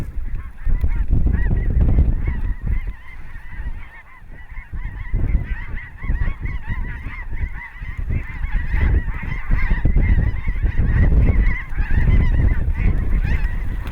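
A large flock of snow geese honks loudly and continuously, many overlapping calls forming a dense, chattering din.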